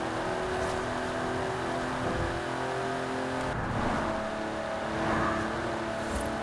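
A GMC Syclone truck's engine pulls hard in Forza Horizon 4, a steady droning roar that rises in pitch, drops at a gear change midway, then climbs again, continuous and close.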